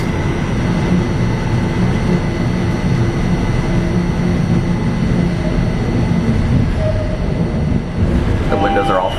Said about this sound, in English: This is New York's very famous subway system.